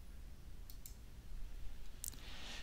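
A computer mouse gives a few quick, crisp clicks up close while working in spreadsheet software, two small taps early and a sharper one later over faint room hiss, with no voices.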